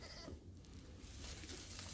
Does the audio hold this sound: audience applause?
no